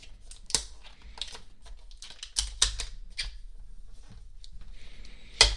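Unboxing a Surface Pro 6 keyboard cover, with crisp plastic clicks, taps and rustling packaging scattered irregularly at close range, a few sharper snaps standing out, no speech.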